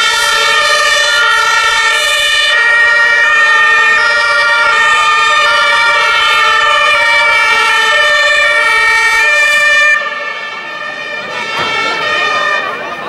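A fire engine arrives at a state fire brigade day exercise in Stuttgart with its siren wailing loudly and steadily up close, the tone dropping and fading near the end.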